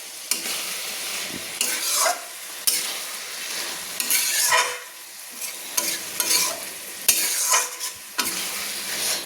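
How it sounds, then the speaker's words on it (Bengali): Cabbage and chicken curry fries with spices in a kadai on a gas flame, with a steady sizzle broken by repeated scraping stirs of a spatula at an irregular rhythm. "খেতে কিন্তু এইভাবে মশলার সঙ্গে সুন্দর করে কষিয়ে নিতে হবে"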